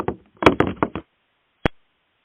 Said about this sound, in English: the kitchen door bursts open